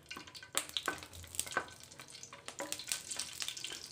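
Cashews fry in hot ghee in a pan on a stove, giving a soft, steady sizzle broken by a few louder crackles and stirring scrapes. No voices are heard.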